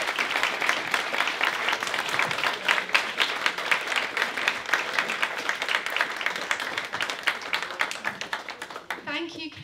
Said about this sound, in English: Another round of applause, Katy